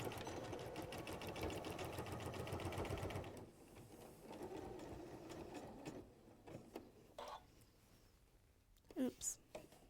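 A sewing machine stitches seams on a fox soft toy with a fast, steady mechanical chatter that stops after about three seconds, followed by quieter handling noises and brief speech-like sounds.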